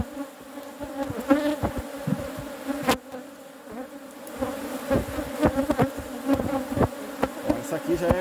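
Honeybees buzz around an open hive during an inspection while a second honey super is added, a dense close drone with individual bees flying past the microphone in repeated rising and falling passes.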